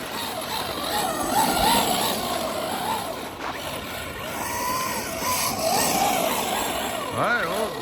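A rebuilt all-wheel-drive RC car with new screws and bearings drives about, its electric motor whining and rising and falling in pitch over rolling, scuffing noise.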